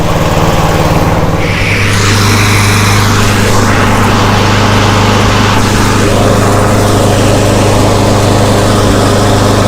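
A push mower engine running steadily at its adjusted RPM, a loud, close, continuous drone that holds an even pitch throughout, with no talk.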